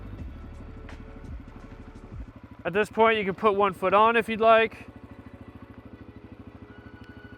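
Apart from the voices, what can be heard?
dirt bike engine idling while rolling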